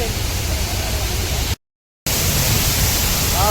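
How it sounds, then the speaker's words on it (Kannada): Loud, steady rush of water pouring down nearby from a small waterfall at Hogenakkal Falls, heard from a rocking boat, a dense broadband roar broken by a short silent gap. "ಯಾವ ಥರ ನೀರು ಬೀಳ್ತದೆ ಸಖತ್ತಾಗಿ"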